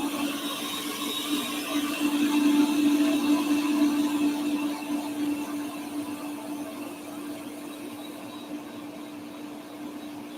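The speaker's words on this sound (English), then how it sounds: "I do have to hold the top of the blender because the blender we have right now, the only way it works, we have to hold the top down." A kitchen blender runs continuously with a steady whirring drone, loud at first and easing slightly toward the end, with no voices.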